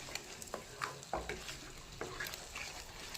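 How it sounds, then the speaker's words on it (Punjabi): Masala spices fry in hot oil for a tadka while making matar masala sabzi, a steady close sizzle broken by several scraping stirs of a spoon against the pan, with no voices. "ਅਸੀਂ ਤੜਕੇ ਨੂੰ ਮਸਾਲਾ ਪਾ ਕੇ ਜਦ ਤੱਕ ਭੁੰਨ ਲੈਣਾ ਜਦ ਤੱਕ ਇਹ ਤੇਲ ਨਾ ਛੱਡ ਦੇਵਾ"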